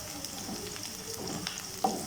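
Curry leaves dropped into hot oil with onions already softened for a Tamil paruppu keerai poriyal, giving a steady close sizzle and fry hiss with small crackles and stirring scrapes throughout, no voices.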